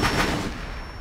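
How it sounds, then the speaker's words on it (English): A gunshot in the video game Rainbow Six Siege, fired by an enemy who jumped out of a window during a team deathmatch on the House map: one sharp blast that decays quickly, close and loud. "Someone jumped out a window and shot me"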